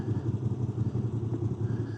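A 2025 Moto Guzzi V85TT motorcycle engine idling in neutral, a close, steady low throb with an even pulsing beat and no talk.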